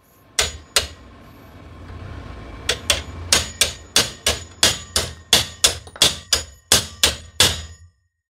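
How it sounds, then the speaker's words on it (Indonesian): An HL Premier hammer strikes a hard surface about fifteen times, two early blows then a steady run of sharp, close metallic knocks at roughly two per second, with no voices. "Ini palu HL Premier."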